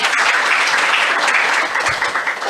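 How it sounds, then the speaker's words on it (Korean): A church lecture audience gives loud, dense applause to welcome a woman evangelist to the front, a continuous close wash of many hands clapping that dips briefly near the end. "박수로 모시겠습니다."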